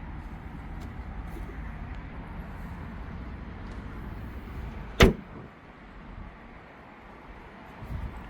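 A Zeekr 7X car compartment lid shuts with a single sharp thud about midway, over a steady low rumble of cabin or road noise.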